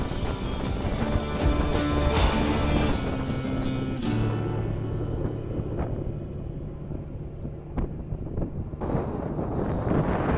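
Wind buffets the microphone while cycling through the Rocky Mountains in Alberta, a loud, continuous rushing roar with low rumble that eases slightly midway and then swells again, with no talking.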